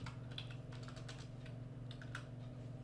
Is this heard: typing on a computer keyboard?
yes